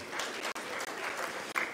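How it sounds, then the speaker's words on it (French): Audience at a FANAF 2019 conference panel applauds with continuous, dense clapping from a room of people, steady and moderately distant. "On applaudit madame Thiaco."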